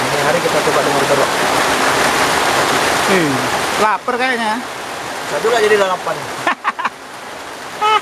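Steady heavy rain falls outdoors as a loud, broad hiss, with someone talking over it partway through as the downpour continues.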